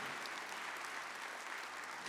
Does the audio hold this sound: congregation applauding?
yes